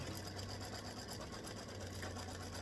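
Embroidery machine stitching the body of a freestanding-lace bee design, a faint, fast, even mechanical whirr with a rapid needle pulse running throughout.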